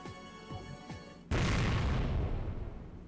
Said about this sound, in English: Explosion shook the air.